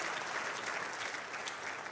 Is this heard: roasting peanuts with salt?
no